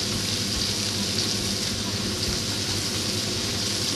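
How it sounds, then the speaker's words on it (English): Onions fry in a pan with a steady, dense sizzle that holds evenly at close range, with a few low knocks underneath and no voice over it. "Now we're going to throw in some onions."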